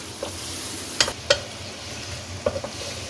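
Sliced onion frying in oil in a kadai, a steady low sizzle broken by a few sharp clicks and scrapes of stirring, close and moderately loud with no talking.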